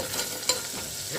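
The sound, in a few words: chopped pumpkin sizzling in ghee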